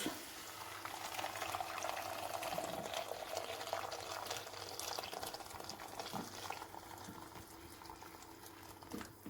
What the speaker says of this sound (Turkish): havuçlarımızı şöyle çeviriyoruz ve üzerine kaynamış suyumuzu döküyoruz